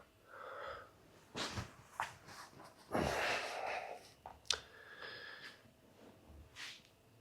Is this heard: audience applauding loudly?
no